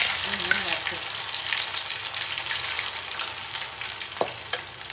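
Cauliflower pieces for cauliflower chilli fry in hot oil with a loud, steady crackling sizzle and a few close clinks and stirs near the end.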